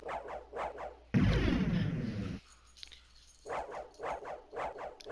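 German Shepherd dogs bark in short, loud bursts and then whine between them, close by and alone with no talking, indoors during a video game stream.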